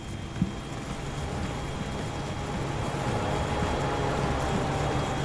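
Trains running in the video game Transport Fever, a steady broadband rumble of rolling rail cars that grows slightly louder midway, continuous and without speech.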